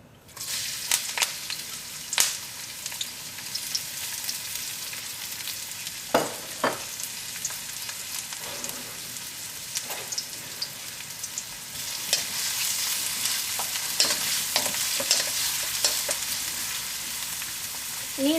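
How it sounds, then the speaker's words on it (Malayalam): Sliced onion and curry leaves fry in hot oil, a steady close sizzle with scattered sharp crackles and a few stirring scrapes, growing slightly louder toward the end, no talking. "എണ്ണ നന്നായിട്ട് ചൂടായിട്ട് എണ്ണയിലേക്ക് നമുക്ക് സവാളയും വേപ്പിൻ്റെ ഇല ഇടാം."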